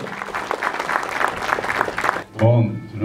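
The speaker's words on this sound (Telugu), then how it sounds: "ఒకసారి గట్టిగా చప్పట్లు" An audience at a film premiere event claps in a sustained, dense round of applause for about two seconds, fairly loud and crowded, then it stops and a voice speaks close up.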